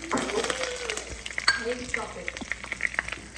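Three to four fat red chillies with kalonji and fenugreek seeds sizzling and crackling in hot oil for a lentil dal tadka, close and steady with sharp pops scattered throughout.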